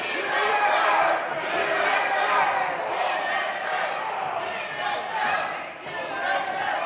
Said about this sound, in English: The crowd is saying Steve Frost sucks